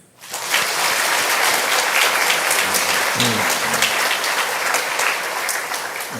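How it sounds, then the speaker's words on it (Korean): Sustained, dense applause from a church congregation at a new church building dedication, rising quickly and holding loud and steady throughout. "우리 모두를 위한 감사 찬송을 드리는 박수."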